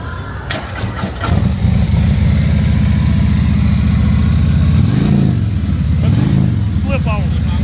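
A motorcycle fitted with a Clockwerks slip-on exhaust fires up and settles into a loud, deep, loping idle close by at a rally, with a couple of throttle blips and people talking over it.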